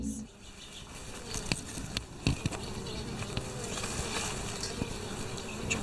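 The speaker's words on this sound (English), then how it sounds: "And there are a whole bunch of bees at the bottom." Honeybees buzz at the entrance of a hive with a screen bottom board, a dense, steady hum close by with occasional individual bees whizzing past.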